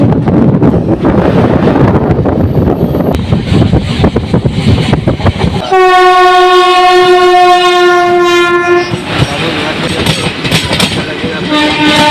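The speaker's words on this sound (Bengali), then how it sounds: "ট্রেন ঢুকছে এখন ব্যান্ডেল জংশন" A Howrah–Katwa local train rumbles loudly into Bandel Junction, its horn blaring in one long, steady blast midway before the clatter of the wheels on the rails returns, with some talk nearby.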